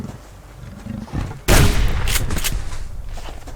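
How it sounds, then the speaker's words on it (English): A single loud shotgun blast in the survival game Subsistence, a sharp boom after a quiet stretch, followed by a long rumbling tail with a couple of fainter echoing cracks. "Actually, it's cheaper to use the shotgun now."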